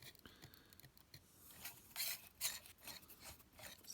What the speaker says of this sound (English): Sounds like it's scraping.